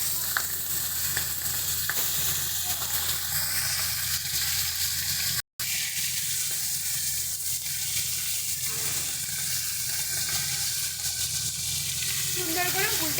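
Hilsa fish heads frying in hot oil in a pan, a loud continuous sizzle with crackling and occasional stirring, steady throughout apart from one brief cut.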